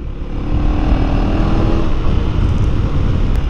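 A 2024 KTM Duke 390 motorcycle roars loud and close, its exhaust note droning steadily with a rough low rumble and no talk over it.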